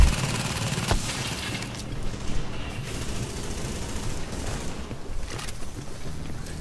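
Automated turret gunfire in The Division video game, a continuous rumbling barrage of rapid shots with a few heavier booms, loud and steady throughout with no talk.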